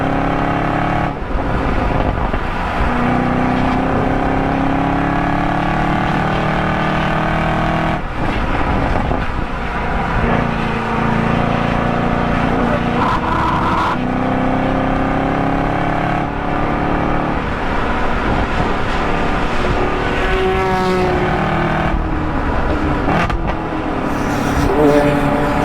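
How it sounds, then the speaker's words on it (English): Porsche Carrera Cup race car at Road Atlanta, its engine roaring loud and close as it accelerates and passes by, with the high revs and pitch shifting as it sweeps past, other traffic on track underneath. "Carrera Cup car."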